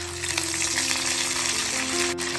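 Sliced garlic sizzles and crackles in hot oil for a pickle made with irumban puli, a steady close frying hiss with a low background hum.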